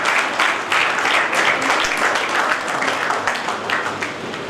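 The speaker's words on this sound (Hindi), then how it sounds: "बिल्कुल ये तालियां" Audience applause at a teacher and student award ceremony in a school hall, dense steady clapping from a crowd filling the whole stretch at close range, with slight swells and no speech over it.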